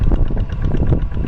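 A Kubota tractor engine chugs steadily in a rice field, a short, loud, continuous low rumble with no talk.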